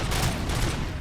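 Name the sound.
RoboCop's pistol firing in the video game RoboCop: Rogue City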